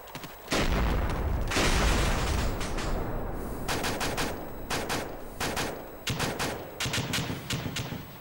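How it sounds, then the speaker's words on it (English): A rolling, booming blast opens a string of explosions in a multiplayer video game, followed by rapid clusters of sharp bangs and cracks, loud and close, with no voices. "For some reason, everything's exploding."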